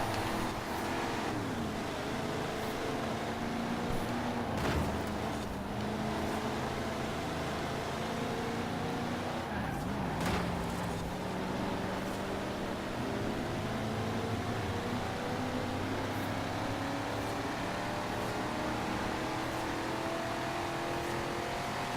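A Lego Ferrari F40 from Forza Horizon 4 drones steadily around a racetrack, its engine note rising and falling through gear changes in a continuous, close, uninterrupted roar.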